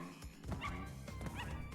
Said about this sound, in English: It makes a bark sound.